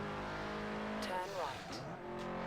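Car skidding through a handbrake turn in GTA V, a short tire squeal sliding in pitch over steady engine drone, with someone talking over it.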